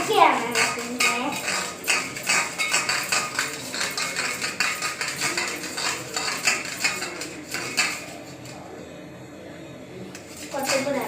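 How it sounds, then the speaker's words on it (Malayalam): Yogurt curry with salt being stirred slowly in a pot, a steady run of close metallic spoon scrapes and clinks against the pot wall, with a voice talking now and then. "ഞാൻ പതുക്കെയാണ് ഇളക്കുന്നത്."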